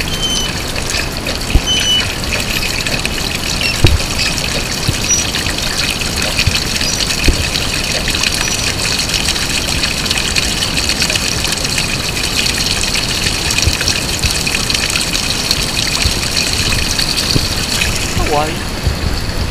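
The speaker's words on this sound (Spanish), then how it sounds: "Ese gira, gira y echa agua" Turning wheel pumping water up a pipe and pouring it out, a steady loud gushing and splashing that runs continuously without pause.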